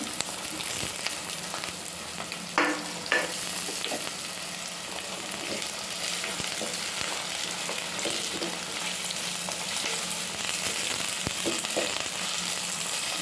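Carrot and potato pieces fry in oil with a continuous, fairly loud sizzle and hiss, punctuated by occasional clinks and stirring scrapes, no one speaking.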